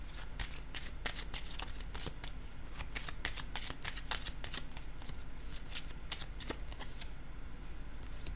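Tarot cards are shuffled in a quiet, close, continuous papery riffle of rapid flicks and soft slaps that runs steadily for several seconds with no talking.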